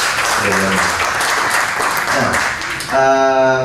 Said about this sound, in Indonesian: Tepuk tangan dulu dong sekali lagi